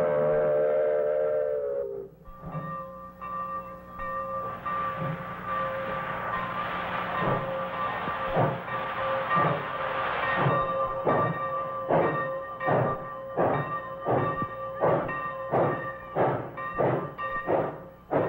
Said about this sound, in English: One blast on the whistle and away for her final run up the hill.